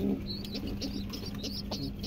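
Pet pigeons in a loft coo softly at close range, low throaty murmurs repeating over a faint, steady background hum, with a few light chirps from young birds.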